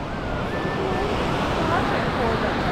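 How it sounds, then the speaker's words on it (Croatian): Steady rushing surf of Indian Ocean waves in Bali with wind noise, continuous and fairly loud, with faint voices underneath. "Indijski ocean."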